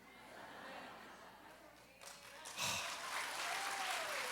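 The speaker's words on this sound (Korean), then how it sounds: "아니 박수를 치면 어떡해" An audience at a church prayer-meeting gathering breaks into clapping that swells suddenly partway through, up close and fairly loud, with some voices mixed in.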